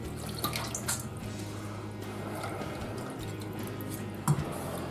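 Sprouts are rinsed in a cold water bath, with soft, continuous trickling and sloshing and a brief splash near the end, fairly quiet and with no talking.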